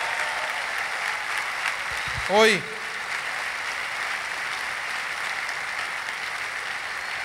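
A church congregation at a Spanish-language Sunday service applauds steadily at moderate level, with a brief spoken exclamation partway through.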